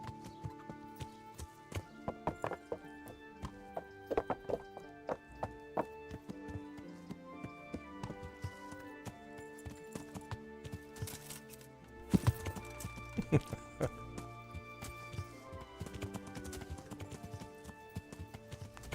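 A horse gallops in Kingdom Come: Deliverance, steady hoofbeats clattering under game music, with a heavier thud about two-thirds of the way through.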